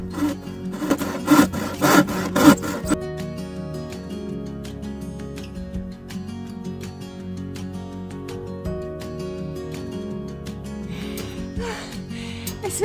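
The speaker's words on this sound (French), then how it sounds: "Tu vas tout scier la planche?" A wooden plank is sawn by hand, with a quick run of rasping strokes at the start and then a quieter stretch with a low sustained tone and soft scraping and no clear sawing.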